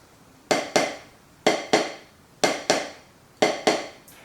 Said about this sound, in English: The first drill is spaced diddles